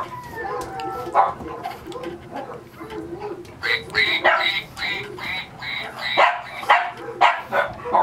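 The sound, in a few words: French bulldog puppy barking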